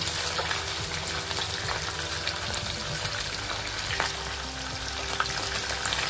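Onions and green chilies frying in hot oil with pieces of hilsa fish, a dense steady sizzle and crackle close up, with occasional faint stirring and no talking.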